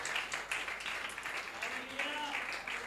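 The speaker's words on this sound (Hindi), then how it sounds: "इनके लिए तालियां बजाओ" Applause from a church audience, a soft, continuous patter of clapping that stays fairly distant and even throughout.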